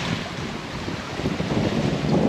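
Wind rushing past a sailboat off the coast of northern Sicily, a steady broadband roar with gusty buffeting and waves, close and loud, no talking.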